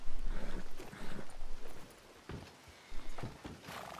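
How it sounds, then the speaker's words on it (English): A horse walking in the video game Red Dead Redemption 2, soft hoof clops over steady ambient noise, close and moderately quiet, with a brief louder patch near the end and no talk. "Now what kind of horse is this?"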